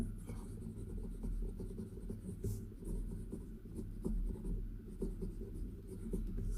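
An Armando Simoni Club Bologna Extra fountain pen in Arco bronze celluloid with an 18K flex nib scratching across paper, a continuous close, soft rustling stroke with small rhythmic variations.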